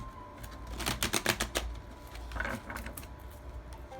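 Tarot cards are shuffled slowly close by, a rapid burst of soft riffling clicks followed by a quieter second run.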